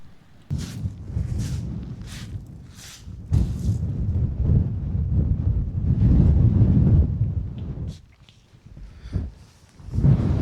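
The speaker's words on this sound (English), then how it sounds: "And it's very windy." Strong wind buffets the microphone outdoors at a wet wild campsite in Scotland, in loud, rumbling gusts, with a few sharp knocks early on and a brief lull near the end.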